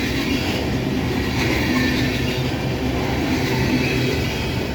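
A CSX ethanol train led by two CN Tier 4 GEVO locomotives, one in the 100th Anniversary scheme with a P5 horn, rolls through Patapsco with a loud, steady rail rumble and wheel noise that lasts the whole time.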